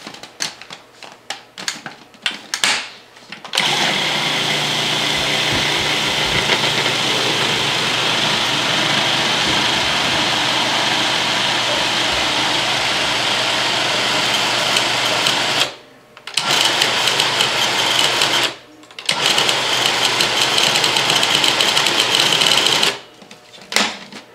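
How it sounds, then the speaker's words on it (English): An electric mixer whisks almond croissant filling in a bowl with a loud, steady whir that runs for long stretches, cutting out briefly twice before starting again. "give it a whisk."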